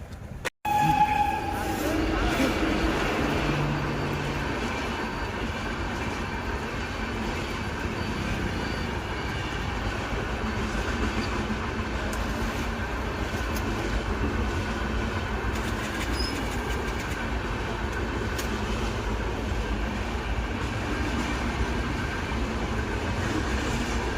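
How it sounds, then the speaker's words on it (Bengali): A train rolls past nearby with a steady, continuous rumble and faint rail clatter that holds for the whole stretch, with no talk over it. "প্রথমে একটা ট্রেন চলে গেল"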